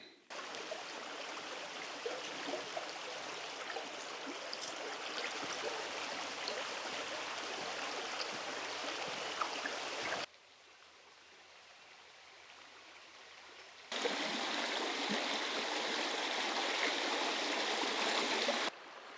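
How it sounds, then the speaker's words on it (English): A creek flowing through a remote Montana forest, a steady broadband rush of moving water heard close, dropping to a quieter murmur midway before the loud flow returns, with no talking. "I'm just walking along this creek in this beautiful forest here."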